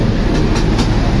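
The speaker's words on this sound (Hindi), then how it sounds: "ये देखें जी, ये मेट्रो आई है" A metro rolls past on a flooded street in Multan, Pakistan, after a hailstorm. The rumble is close, loud and steady, with faint rhythmic rail clatter and no voices.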